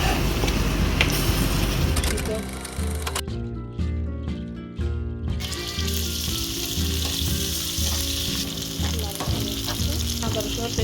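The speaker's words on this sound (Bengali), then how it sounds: "তারপর ভালো করে নেড়ে ফেলবো" Beef with black pepper, coriander powder and ginger sizzles loudly in a pan as it is stirred, a dense continuous frying hiss with scraping strokes and a brief quieter dip near the middle.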